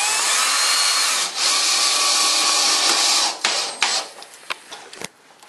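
A power drill drives 3.5-inch square-drive drywall screws with washers at an angle into a garage door, a loud steady whir for about three seconds, then stopping and short scraping and clicking sounds.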